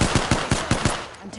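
Rapid bursts of automatic gunfire in the video game Apex Legends, close and loud, with sharp shots at a steady quick rhythm and a short pause near the end.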